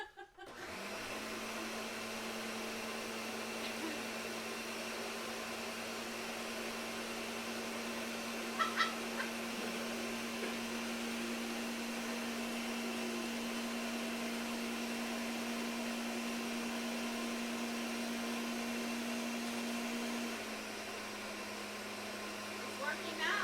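A blender whirs steadily while blending coquito, a Puerto Rican eggnog, making a continuous motor hum that runs for about twenty seconds before it cuts off, with a few faint clicks partway through.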